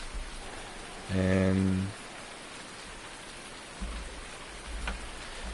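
Steady rain falls in the farming game Farming Simulator 19, a constant hiss of drops throughout, with a short low humming tone partway in and someone briefly speaking.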